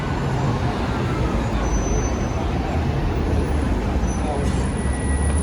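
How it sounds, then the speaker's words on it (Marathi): Steady dense Dubai city traffic with a Cadillac car passing among many vehicles, a continuous roar of engines and tyres with no distinct single pass standing out. "आता तिथून एक कॅडिलॅक पण गेली"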